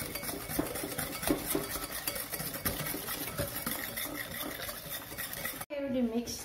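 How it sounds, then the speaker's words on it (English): Mascarpone cheese being mixed into egg yolk and sugar in a bowl, with steady close scraping and clinking of a utensil against the sides; a voice briefly speaks near the end. "Mix the mascarpone cheese to our egg yolk with sugar. We need to mix it until it becomes more soft and smooth."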